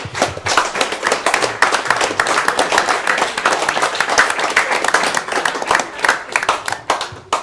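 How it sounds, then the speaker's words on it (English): Sustained applause from many hands, dense and steady clapping throughout at moderate loudness, no voices. "I want to clap that out for you."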